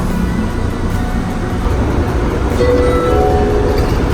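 A steady rumbling roar of an airport people mover train running on rails, with faint squealing tones creeping in as it slows to a stop.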